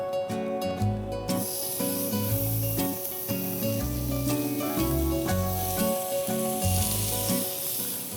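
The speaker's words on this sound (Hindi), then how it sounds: "and now I am going to grill this" Cubes of paneer sizzling loudly in a very hot, lightly oiled grill pan, a constant crackling hiss close up over a bed of background music.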